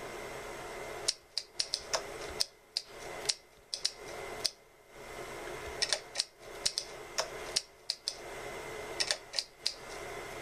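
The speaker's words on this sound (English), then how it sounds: "And we're going to type on this." Light plastic key clicks tap out in irregular clusters, soft and close, typing on a thin keyboard built into an iPad Air case, with brief gaps between bursts.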